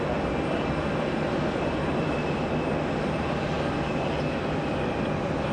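A steady, distant roar of a jet airliner rolling along runway 4 Left at JFK airport, a continuous broadband rumble with no talking.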